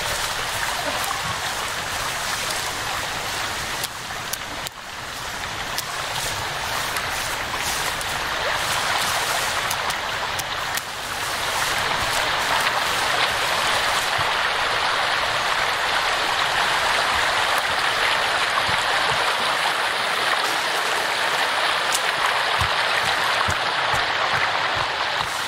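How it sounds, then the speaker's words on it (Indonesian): River water rushing steadily as a character wades across in the Sons of the Forest video game, a continuous broad splashing flow that grows fuller partway through, no talking. "Nyebrang sungai."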